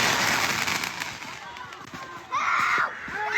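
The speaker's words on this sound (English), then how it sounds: "the errant firework flew into the crowd Monday night during the city's July 3rd Jubilee fireworks show" At a city July 3rd Jubilee fireworks show where one firework misfired into the crowd, loud crackling bursts and hissing pops fill the air, with a new sizzling burst midway, while people talk in the background.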